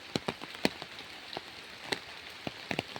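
Rain falling over ripening paddy fields, heard as a steady soft hiss with scattered louder drops striking a nearby surface at irregular intervals, with no voices.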